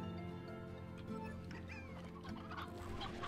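Hens cluck in the Slime Rancher video game, with several quiet, overlapping clucks over a dense, constant game backdrop of music and ambience and no talk.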